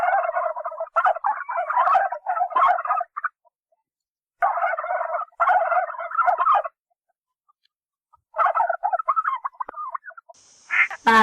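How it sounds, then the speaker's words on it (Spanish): A turkey gobbles in three loud, rapid rattling bursts separated by short silences, close and clear with no talk over it. "Pavo."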